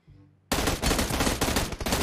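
Sustained automatic M16 rifle fire in a video game bursts in after a brief quiet lead-in, dense and loud with rapid overlapping shots continuing to the end.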